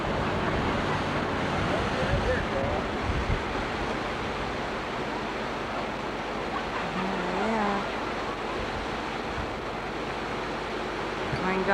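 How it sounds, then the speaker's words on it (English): A small stretch of whitewater on a river carrying rafters rushes in a continuous broadband roar, close and loud, with wind buffeting the microphone and no clear talk. "Going down the whitewater, little whitewater."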